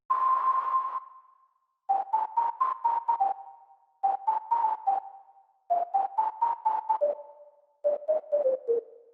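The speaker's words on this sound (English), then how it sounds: "And the last layer is this whistle sound." Whistle-like synth lead layer in a dance track, a pure, airy tone gliding between pitches in five short melodic phrases with brief gaps, solo and clear.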